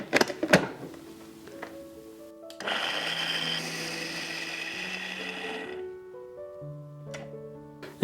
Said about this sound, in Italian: Frullatore potente, altrimenti vi si sentono le bucce dopo.